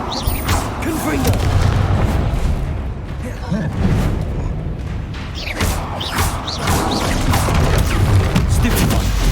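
Confringo blasting spells explode in rapid succession during a magical duel in Hogwarts Legacy, with loud, heavy booms and crashes layered over constant rumbling and clattering combat noise, nearly continuous throughout.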